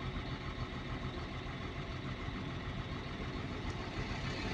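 Caterpillar 950H loader with low power runs its engine in a continuous, close, droning rumble that holds fairly even throughout, with no talk.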